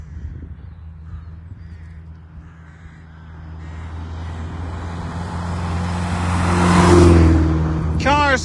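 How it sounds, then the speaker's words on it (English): A car approaches and speeds past on an uneven road between Mason Lodge and the Carney roundabout, its motor swelling to a loud peak and then fading, with crows cawing and a voice talking nearby. "Cars can really fly along this road from Mason Lodge to the Carney roundabout."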